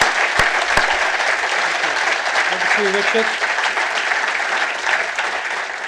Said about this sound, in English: Perhaps we can give them an enthusiastic round of applause.